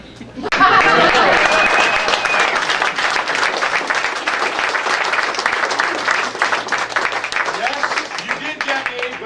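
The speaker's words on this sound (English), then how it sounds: "Once again, big round of applause." Sustained applause and clapping from an audience at the DJSA 2014 season awards ceremony, breaking out suddenly, staying loud for several seconds with a few chuckles mixed in, then thinning slightly toward the end.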